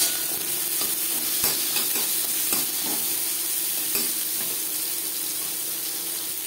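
Vegetable stems, jute-leaf stalks, fry loudly in a pan, with a dense continuous sizzle broken by repeated metallic clacks of a spatula stirring against the pan, no voices.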